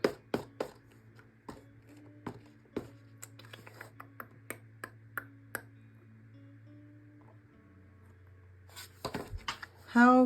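Scissors cut through a stack of small punched paper pieces during card embellishing, giving a string of sharp, close snips spread over several seconds against a low steady hum, with a short burst of handling noise at the end.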